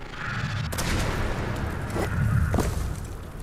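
Gunfire in the video game Rage 2, aimed at a watchtower: dense booming shots under a constant loud rumble of action, with a couple of sharper cracks standing out near the end.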